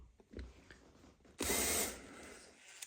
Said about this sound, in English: I'm just using a 4mm bit, which is the same size as the mounting hole. And then I'm drilling actually in reverse.